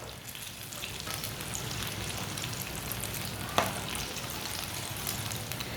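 Eggplant fries in a pan over lowered heat, giving a steady, dense sizzle with crackling spatter throughout and one sharp pop partway through.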